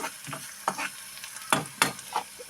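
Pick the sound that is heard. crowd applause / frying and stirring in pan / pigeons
frying and stirring in pan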